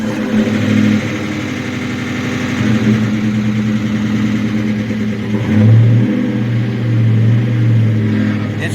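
The rebuilt engine of a 2003 Ford Mustang GT runs loud and close, holding a steady, rumbling idle that swells briefly as it settles.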